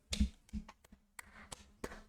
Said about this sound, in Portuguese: Você está dando pra ouvir minhas palmas